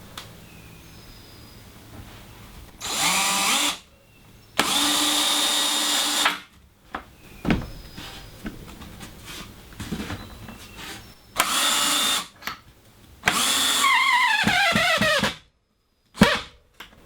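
A power drill drives screws into wall studs for a loft extension in a tiny house, in several loud bursts of a few seconds each with quiet gaps and small knocks between them, close by.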